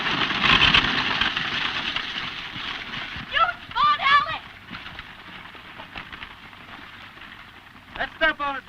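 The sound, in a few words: horses clip-clopping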